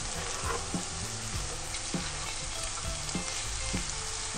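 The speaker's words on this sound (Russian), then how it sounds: "Жарим до мягкости." Carrots and onion crackle and sizzle steadily in a hot pan, with periodic scraping knocks as they are stirred.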